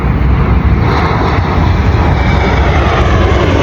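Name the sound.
airplane flying overhead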